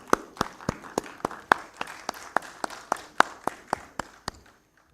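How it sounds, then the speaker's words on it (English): Sparse, light clapping from a small conference audience welcoming a speaker at a telecom standardization outreach session in Delhi, roughly a dozen distinct claps spaced evenly and fading out near the end. "May you please extend a warm welcome through a clap."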